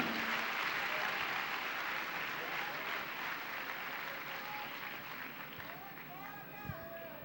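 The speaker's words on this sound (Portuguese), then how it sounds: "Vamos dar para Jesus a melhor salva de palmas que a gente puder dar" A church congregation applauds for Jesus at a worship event, a dense sustained roar of clapping and crowd noise, with a few voices calling out near the end.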